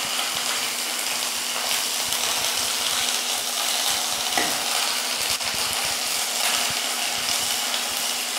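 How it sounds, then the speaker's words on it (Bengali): Ginger garlic paste frying in hot oil in a pan, a continuous loud, close sizzle with light stirring and a steady low hum underneath. "ভেজে নেবো ভালো করে, আদা রসুনের গন্ধটা কাঁচা গন্ধটা যেন চলে যাবে।"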